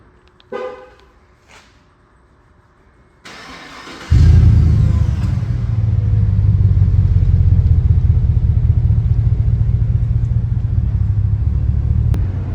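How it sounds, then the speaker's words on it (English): A Cadillac Escalade with a Magnaflow muffler, DOD delete and exhaust upgrade is remote started: a couple of short horn toots, a starter whir, then the engine catches into a loud, steady, deep idle rumble close by. "Go ahead and remote start it from here."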